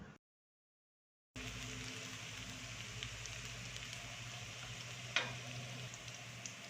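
Garlic and onion sautéing in a pan for pancit bihon give a steady, close sizzle that runs on after a brief silence, with one sharp crackle partway through.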